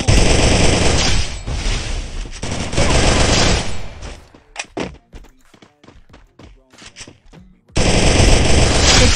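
Gunfire in the video game Free Fire comes as loud sustained automatic bursts, then breaks off into scattered single shots and thuds before another heavy burst returns.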